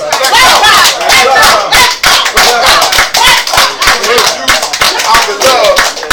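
A crowd at a Black men's news conference claps hard and shouts, loud rhythmic handclaps mixed with whoops and cheering voices, close and energetic throughout.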